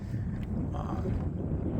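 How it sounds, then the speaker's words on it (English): Strong wind buffets the microphone on open water during a boat outing, a steady low roar rumbling throughout without letup. "Tons of wind right now."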